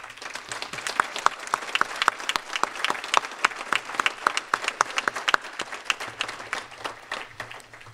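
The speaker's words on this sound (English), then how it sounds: "I would ask that you join me with a round of applause for them." A luncheon crowd in Dunkirk, New York gives a committee a steady round of clapping, many hands rattling together at moderate loudness for several seconds before tapering off, with no talk over it.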